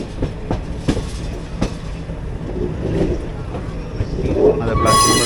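The 16766 Mettupalayam Express rolls into platform 4 at Coimbatore Junction, with rhythmic wheel clatter over rail joints, a steady rumble and a sharp squeal near the end, heard from inside the train.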